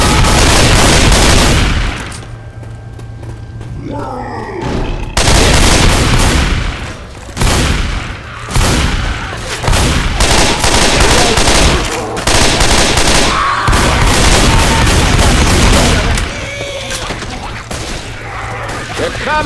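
Gunfire in the video game Left 4 Dead 2 rattles in dense, loud, near-continuous automatic bursts and blasts with brief lulls, while players talk over the shooting.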